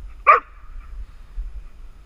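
A dog gives one short, sharp bark on command during obedience training, close by, followed by near silence.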